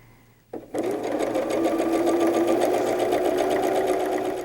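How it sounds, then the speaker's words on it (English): A sewing machine runs a scant quarter-inch seam through quilt fabric pieces, starting with a click and then holding a steady, fairly loud rhythmic hum. "I'm going to sew my scant 1/4 of an inch again, just like I've been doing"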